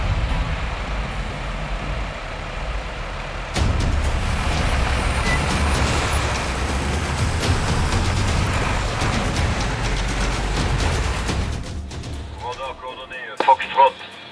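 A military vehicle drives during a field exercise, its engine a loud, steady rumble with road noise and a hiss like an air brake, with talk over it, before the drone drops away near the end.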